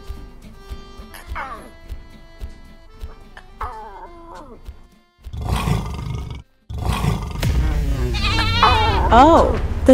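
Toy lion cubs roar and a sheep bleats in a play scene with a farm diorama, the animal cries loud and close, with a father-like voice talking early on before the roaring and bleating take over.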